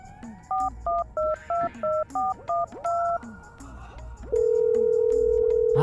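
A phone number is dialed as a quick run of keypad beeps, followed by a steady tone.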